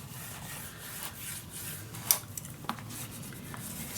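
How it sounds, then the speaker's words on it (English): Paper edges are burnished down in a scrapbook mini album, quiet dry rubbing strokes in an uneven rhythm with a few sharper scrapes and taps, close up with no talk. "Let's burnish it down."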